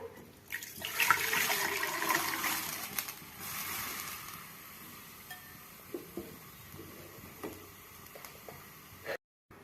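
Milk pours into a cooking vessel with a soft, fairly close liquid splashing that runs for a few seconds and then tapers into faint clinks and quiet handling sounds.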